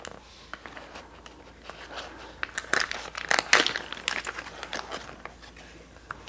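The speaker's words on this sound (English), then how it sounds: "we're going to cut the package of tuna open" Plastic packaging around sushi-grade ahi tuna being cut open, a run of close, sharp crinkling and snipping bursts that grows busier midway, alone in a quiet kitchen.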